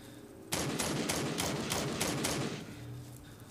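Rapid automatic gunfire in Into The Dead 2, a zombie shooter, fires a dense burst of about eight evenly spaced shots over two seconds, then cuts off into a fading tail.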